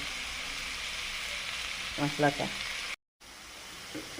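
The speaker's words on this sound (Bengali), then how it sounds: "শুকনো ঝালের গুঁড়া মশলাগুলো লবণ পরিমাণ মতো দিয়ে ভালো করে ভেজে নেব" Onion, garlic and green chilli frying in a pan with dried chilli powder, ground spices and salt for an eggplant and fish curry, giving a steady close sizzle with a brief voice heard midway.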